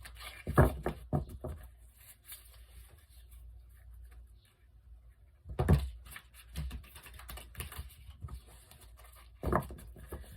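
Tarot cards are shuffled in several short bursts of quick, soft flicking and riffling, with quiet pauses between.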